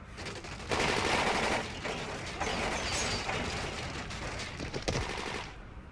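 Gunfire in the zombie survival game Dying Light, bursts of rapid automatic shots in several rattling volleys of moderate loudness, with mechanical clatter between them and no talk.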